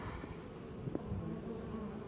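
Steady buzzing of many honey bees at a hive, a continuous droning hum close by, with a brief louder flick near the middle.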